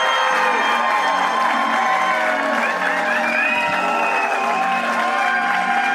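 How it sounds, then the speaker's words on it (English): Audience clapping hard and cheering with whoops for a comedian's intro at a big comedy show, a loud, dense, sustained roar of applause and shouting voices. "Clapping hard for my intro,"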